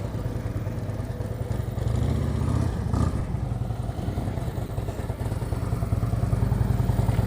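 A motorcycle idles and rolls in first gear during a slow-speed riding practice session in Georgia, its engine a steady, close, dense low rumble that rises slightly for a moment midway.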